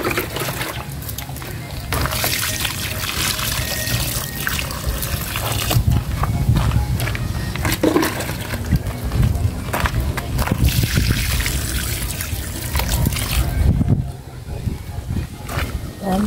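Water poured out from a container over garden plants, a steady splashing trickle and slosh running continuously for most of the stretch, with background noise throughout and a slight dip near the end.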